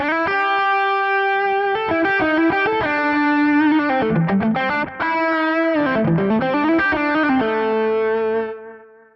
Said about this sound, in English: Let's add some compression to that just for the hell of it.